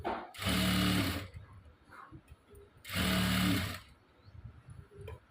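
A sewing machine stitches a prince-cut blouse in two short, even bursts of whirring with a pause between them, close and fairly loud over a quiet room.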